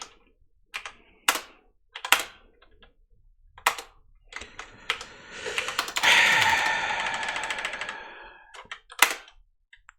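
Fast bursts of typing on a computer keyboard during a VirtualBox vulnerability research session, clustered key clicks with pauses and a longer dense run of rapid keystrokes in the middle, close and crisp.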